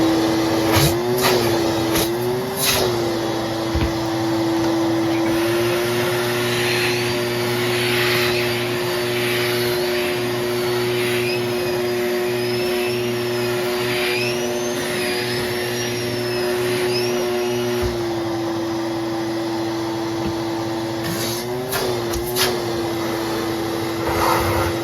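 A Shop-Vac QSP Pro wet/dry vacuum runs steadily with a constant motor whine and rushing air, close and loud, with brief surges and bumps near the start and end.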